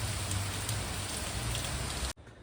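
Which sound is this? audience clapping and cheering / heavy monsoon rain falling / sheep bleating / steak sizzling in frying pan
heavy monsoon rain falling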